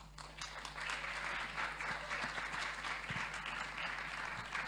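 After a speech at a CARIFESTA panel discussion, an audience applauds in a sustained wash of clapping that swells quickly and holds steady, with a low hum under it.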